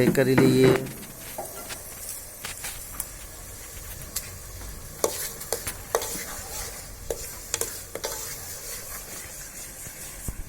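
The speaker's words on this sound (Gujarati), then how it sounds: "ટમેટા લીલું લસણ સૂકા કાંદા તેમજ રીંગણ લીલું લસણ વગેરે અલગ અલગ શાક નાખીને સરસ મજાનો આપણો વઘાર તૈયાર કરી લઈએ" Tomato, green garlic, onion and eggplant frying for a tempering in a village kitchen make a soft, continuous sizzle, with repeated scraping stir strokes and light clicks after a brief louder burst at the start.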